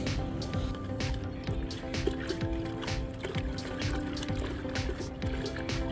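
River sand being rinsed in a round container, the water swirled by hand, makes steady close sloshing with small trickles and drips, continuous throughout.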